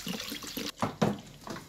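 Tap water runs in short, splashing bursts into a sink while raw chicken is washed for a Korean braised chicken dish, close and uneven, with brief pauses between gushes.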